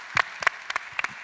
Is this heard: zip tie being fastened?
no